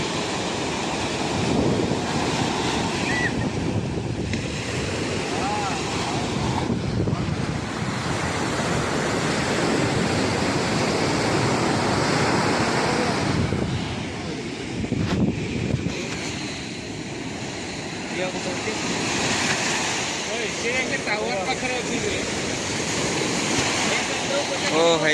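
Ocean waves at Marina Beach, Chennai, surge and wash in a continuous heavy roar, with gusts of wind buffeting the microphone and faint voices in the background.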